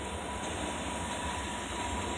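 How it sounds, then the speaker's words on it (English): Faint, steady broadband rumble of a train emerging below a high vantage point near Navy Circle, a continuous distant rolling noise with no distinct clatter and no voices. "Let's see the train come out of, see, like I'm on top of it right now."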